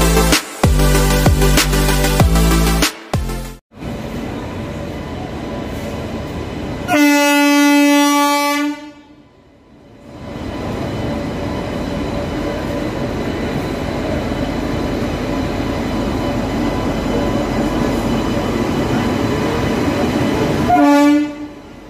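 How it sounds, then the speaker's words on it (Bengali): The Amrit Bharat Express pulls into platform 1 at Malda station. Loud rolling wagon rumble comes first, then a long horn blast, then a steady lower rumble of the train drawing in, and a final horn sounds at the end. "অবশেষে মালদা স্টেশনের 1 নম্বর প্ল্যাটফর্মে অমৃত ভারত এক্সপ্রেসকে নিয়ে এসে রাখা হয়েছে"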